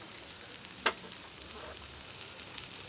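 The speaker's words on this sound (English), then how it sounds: "Just going to grill or roast my Aliya now, my beef now" Kenyan sun-dried beef, Aliya, grilling, with a soft continuous sizzle hissing along at low volume and one sharp pop or crackle partway through.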